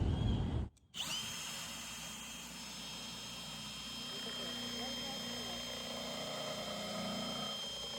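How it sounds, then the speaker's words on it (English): A power drill with an extension bit drills downward, whirring steadily at close range after a brief pause, its motor holding a high, even whine throughout. "All this stuff's going to get in the way as I drill down."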